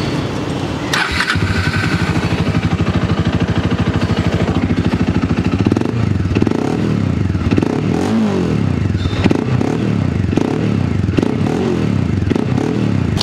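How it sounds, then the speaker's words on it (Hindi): A loud Bajaj Dominar motorcycle modified to resemble a Suzuki Hayabusa, with a deep, throaty modified exhaust, revved repeatedly in surging bursts up close, with no talking. "आपको जल्दी सुनवाता हूँ एग्जॉस्ट की साउंड, तो एक बार देखो"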